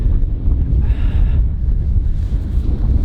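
Strong wind buffets the microphone continuously, a deep roaring rumble with gusty fluctuations throughout.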